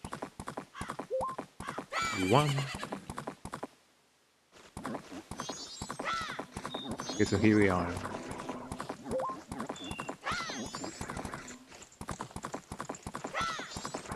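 Epona the horse trotting in The Legend of Zelda: Majora's Mask, with steady clip-clop hoofbeats and a couple of neighs, a brief pause in the middle, and a player talking over the game sounds.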